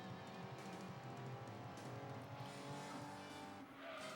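A race car in the Gran Turismo 2 video game drifts into oversteer, its engine droning steadily while the tires skid and squeal through the slide for about four seconds, with no voices present.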